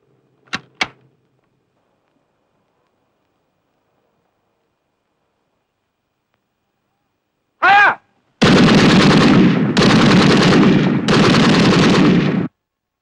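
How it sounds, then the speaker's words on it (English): Gunfire in a war film sounds as several loud, sharp bursts of shots close together. Two faint clicks and a brief ringing tone come before the shots, and long silence separates them. "And you hear the shots ring out, and it's terribly affecting."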